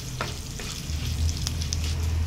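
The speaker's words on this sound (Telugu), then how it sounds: "ఒక ప్యాన్ పెట్టి దాంట్లో ఆయిల్ వేసుకొని ఇక్కడ చూపిస్తున్నట్టు ఎండుమిర్చి వేసుకోవాలి" Dried red chillies and tempering spices sizzle in hot oil in a pan, giving a steady, close crackling hiss with a low hum underneath and a few sharper pops.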